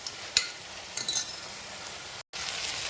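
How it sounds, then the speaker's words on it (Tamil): Ginger garlic paste sautés in a pan for a white vegetable kurma, a soft continuous frying sizzle with a few light clinks and stirring scrapes, briefly dropping out near the end. "இஞ்சி பூண்டு பேஸ்ட்டு வாசம் போகிற வரைக்கும் அப்படியே வதக்கணும்"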